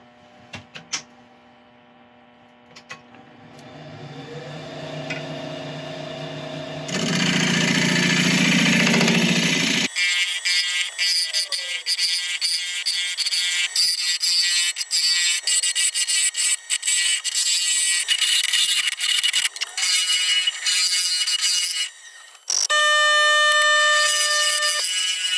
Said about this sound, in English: we're going to start hollowing out again